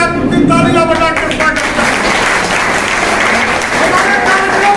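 Crowd applause welcomes guests at the inauguration of a Congress party regional office in Mirzapur, steady and fairly loud throughout, with a voice on a PA heard briefly at the start.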